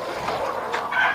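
An imported hen gives a couple of short clucks close by, brief and moderately loud against a quiet background.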